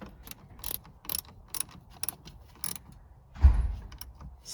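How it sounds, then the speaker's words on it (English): A 10 mm ratchet tightening the battery hold-down clamp on a Honda CR-V, a series of sharp rapid clicking bursts in an uneven rhythm, followed by a duller metallic knock near the end. "then we'll take our 10 millimeter and tighten up the hold down clamp"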